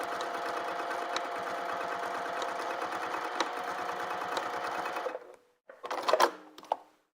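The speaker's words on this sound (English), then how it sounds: "We're going to back stitch up here a few times." A sewing machine backstitches a holiday stocking in a steady, even run lasting about five seconds, then stops, followed by a few brief clicks and rustles of handling.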